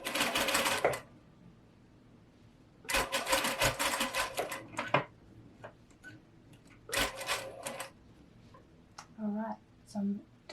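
Domestic sewing machine stitching a collar seam with right sides together on a Viola top, running in three loud whirring bursts with quiet gaps between them and soft handling noises near the end.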